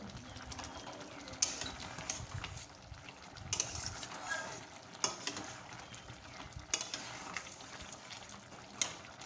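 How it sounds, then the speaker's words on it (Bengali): A drumstick vegetable curry bubbles hard over a high gas flame, with soft popping and sputtering at uneven intervals and occasional stirring clinks, fairly quiet and close. "এখন কিন্তু গ্যাসের ফ্লেমটা হাইতে দিয়ে নেবো, একটু টকবক করে ছোটা ফোটাতে হবে"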